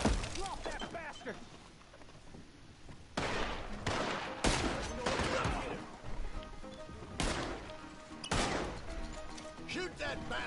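Repeated gunfire in the Western game Red Dead Redemption 2 Online during a bounty hunter shootout, with sharp shots and bursts arriving in several clusters over roughly ten seconds. Voices talk and shout between the volleys.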